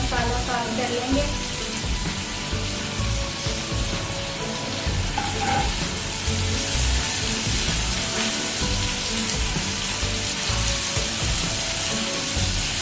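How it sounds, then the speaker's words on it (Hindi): Marinated goat liver (kaleji) frying with spices in a pan, an even, constant sizzle with faint crackles that holds steady throughout at moderate level. "अब हम इसमें ये जो मैरिनेट की हुई कलेजी है ये डाल देंगे। अच्छे से सारा मसाला फ्राई कर लेंगे।"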